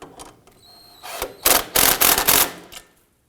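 Wrench or ratchet snugging a pinch bolt nut on a 2008-2011 Ford Focus front wheel hub, heard as a few short, close bursts of loud metallic ratcheting and clicking after quieter handling noise.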